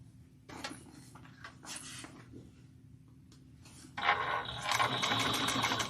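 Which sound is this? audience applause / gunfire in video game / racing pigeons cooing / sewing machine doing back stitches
sewing machine doing back stitches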